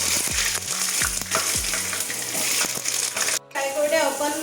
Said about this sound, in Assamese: আলুখিনি ফ্ৰাই কৰি ল'ম।